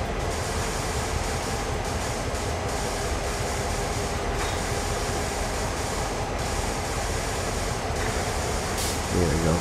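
A diesel switcher pulls railcars away under light throttle in the Train Sim World game, a continuous loud rumble of engine and rolling wheels with faint rhythmic clicks, steady throughout.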